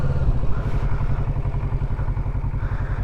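A Kawasaki Z650 motorcycle ridden during a MOD 1 riding test, a steady mid-pitched engine drone with a rapid pulsing exhaust beat, close and loud throughout.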